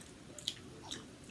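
Close, quiet wet chewing during a mukbang of spaghetti, corn on the cob, fried tilapia and garlic bread, with a couple of soft squishy bites and no talking.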